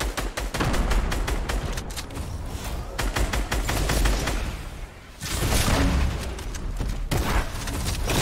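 Video game gunfire aimed at a robot: dense, loud bursts of rapid automatic shots with booming impacts. A brief lull comes midway before the firing resumes.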